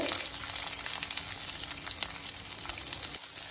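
Fenugreek seeds, curry leaves and onion fry in hot oil for a spring onion sambar, giving a steady close sizzle with light crackle throughout and no talking.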